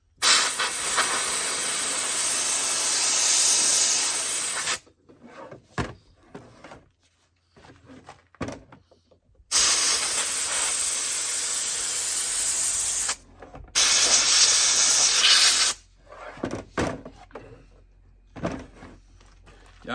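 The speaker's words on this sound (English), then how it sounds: "And then I'll take my air compressor and give it to her." An air compressor blows debris out of a chainsaw bar groove, making loud sustained hissing blasts in three long bursts with short clicks and handling sounds between them.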